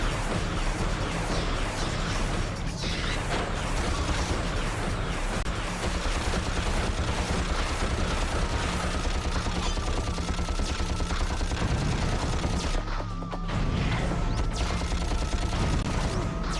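Rapid blaster fire in the 2002 Ratchet and Clank game during a boss fight, a dense, continuous barrage of shots layered over game effects and music for the whole stretch.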